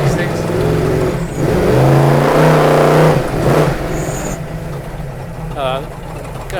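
A $750K big block luxury pre runner truck drives on a dry road, its engine a steady close rumble throughout while people talk over it.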